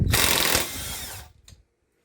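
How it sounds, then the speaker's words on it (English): Impact gun undoing 14mm bolts on the underside of a Mountfield SP536 mower stored for years: one short, loud whirring burst lasting about a second, then a brief rattle and silence. "14mm bolts, impact gun"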